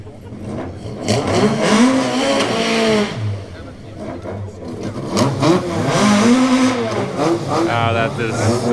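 A German 16-valve car engine revs up and down in loud, rising and falling swells while someone talks over it.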